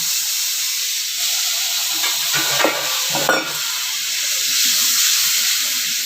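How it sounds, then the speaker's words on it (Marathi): A steady loud sizzle and hiss from spice masala roasting in hot oil, with a brief gush of poured water and stirring scrapes midway, close and without speech. "पटकन याच्यात थोडंसं पाणी टाका"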